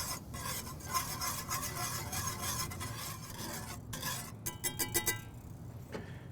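English style mustard sauce being whisked in a bowl, a steady scraping, rasping stir of a whisk against the bowl, close and continuous, with a few sharper clinks of metal toward the end.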